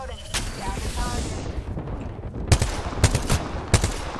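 Gunfire in Apex Legends Mobile, a sharp shot early on, then several loud, spaced single cracks in the second half, set against battle noise.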